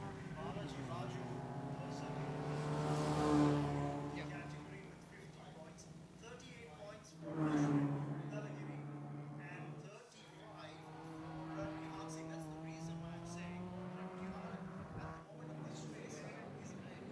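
Race cars in the JK Tyre Novice Cup at the FMSCI National Racing Championship scream past in separate passes, each engine note swelling and fading, with a commentator's voice running over the track noise.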